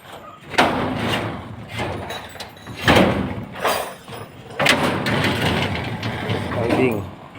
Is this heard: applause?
no